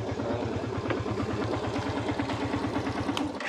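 Motorcycle engine idling nearby outdoors beside a mango orchard, a steady low rhythmic putter that continues evenly throughout and cuts off abruptly at the end.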